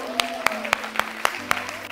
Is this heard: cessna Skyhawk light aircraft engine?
no